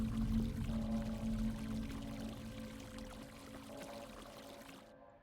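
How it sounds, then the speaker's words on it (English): A toilet flushes in a gushing, steady rush of water that gradually fades over about five seconds, with no talking. "Let's flush that shit."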